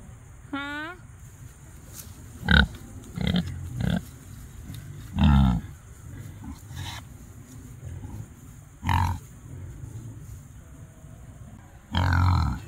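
Pigs grunt on a farm alongside cattle: scattered short, deep grunts and snorts arrive in separate bursts, with a higher squeal early on, over quiet background noise and a low hum, sounding near.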